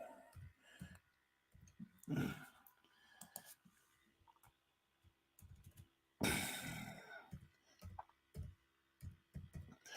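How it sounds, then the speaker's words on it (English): Slow one-finger typing on a keyboard, with sparse irregular clicks and taps, near and quiet, with a few louder rustles or breaths between the keystrokes. "One finger typing, of course."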